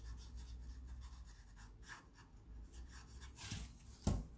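A felt pen colours in a drawing with soft, quiet rubbing strokes, a faint steady scratching broken by a small tap near the end.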